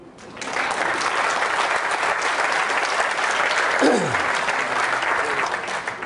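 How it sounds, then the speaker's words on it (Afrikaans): An audience at a university staff gathering, where the rector thanks employees, breaks into dense, sustained clapping that starts abruptly and holds steady throughout. "en julle moet hande klap"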